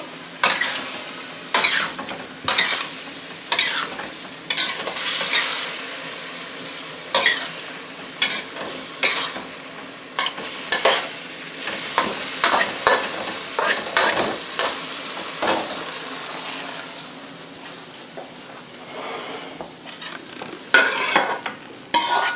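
Beef and cabbage stir-fry in a pan with loud crackling sizzle broken by repeated rhythmic scrapes and clanks of a utensil tossing the food, close and without talk.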